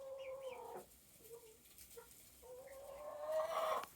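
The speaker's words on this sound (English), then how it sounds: "But all 4 of my other chickens are in there," Chickens in a coop cluck and call in short bursts, fairly faint and close, with a louder cluster of calls near the end and no speech.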